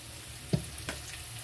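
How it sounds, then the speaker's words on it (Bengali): Onion fries steadily in a pan with a soft, continuous sizzle, broken by two brief stirring clinks, with no voices. "এই পেঁয়াজটা ভাজতে দিয়ে দিয়েছি"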